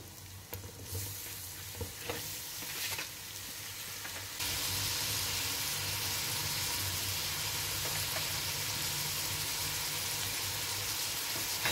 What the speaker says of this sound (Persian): فلفل دلمه و گوجه رو هم اضافه میکنیم و با هم یه تفت میدیم تا عطرش بلند شه